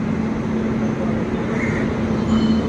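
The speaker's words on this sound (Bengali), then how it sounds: "এই যে আমাদের ট্রেনও এসে গেছে" A passenger train pulls into a railway station, a steady loud rumble with a low hum running throughout the short stretch, with no clear voices.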